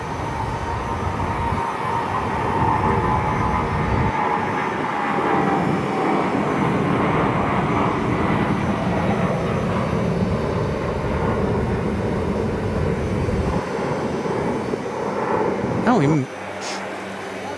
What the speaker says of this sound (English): yep, the Metroliner just landed.